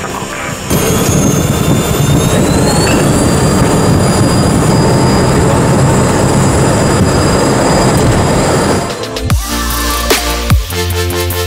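A jet aircraft takes off from runway 34, with a loud, steady roar and a rising whine that hold for about eight seconds. The roar then cuts away into a few dull bumps and a quieter rumble.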